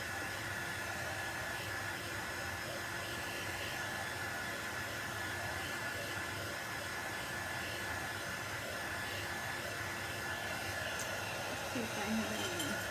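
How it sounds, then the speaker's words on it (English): A hair dryer blows with a constant, even whooshing roar over a craft sign, steady and fairly close, running the whole time without pause. "let's hit that with the dryer for a sec"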